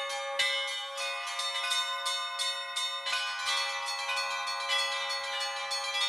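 Church bells ring out in a rapid, overlapping peal at a bell-ringing festival in Kuban, several bells struck repeatedly with bright, ringing tones that sustain and blend together.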